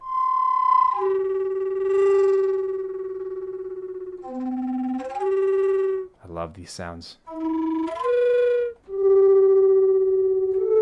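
Native American flute samples from a horror-themed sample library, played dry without effects: sustained breathy tones that step between pitches, with a brief burst of warbling, fluttering notes in the middle and a short spoken remark.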